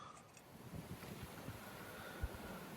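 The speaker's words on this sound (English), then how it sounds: "It's really getting windy and overcast." Wind gusts across a lakeside campsite on a canoe trip in the Sylvania Wilderness, a steady rushing roar with soft buffeting bumps, no voices.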